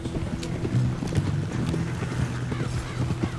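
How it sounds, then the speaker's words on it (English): Horses' hooves clop steadily behind a wagon in the video game Red Dead Redemption 2, a continuous muffled rhythmic beat over rumbling wheels and ambient game sound. "That's cool that they have our horses follow the wagon."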